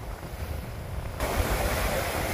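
Sea waves on a windy evening beach at Marielyst, a steady broad wash of surf and wind rumble that swells louder halfway through, with no voices.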